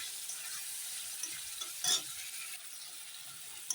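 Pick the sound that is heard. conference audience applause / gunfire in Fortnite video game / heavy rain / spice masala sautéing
spice masala sautéing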